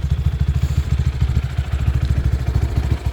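A Jinling 250cc quad's engine runs close up with a steady, loud, rapid low thumping pulse, idling evenly throughout with no voices.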